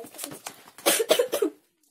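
A short burst of several harsh coughs, close and fairly loud, followed by silence.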